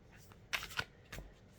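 Cards being shuffled in three quick riffling bursts, close and crisp, with quiet pauses between them.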